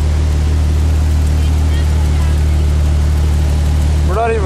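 A car driving slowly through deep flood water on a road in Bristol, Connecticut during Hurricane Irene: a steady engine drone and a constant low wash of water, loud and unbroken, with a voice near the end.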